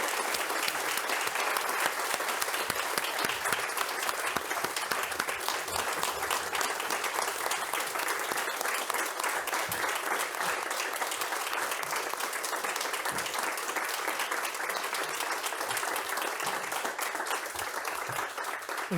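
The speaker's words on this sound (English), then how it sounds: "did you know we really owe him a round of applause" Audience applause for author Ted Freeman at his August 2023 book presentation, a dense, steady crowd clapping that holds loud and unbroken for about twenty seconds.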